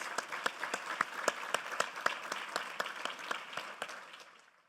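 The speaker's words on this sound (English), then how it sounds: "So let's all give her a round of applause, please." Audience members at the 2025 Contra Costa County Teacher of the Year celebration applaud a teacher with dense clapping under evenly spaced, louder claps, fading out toward the end.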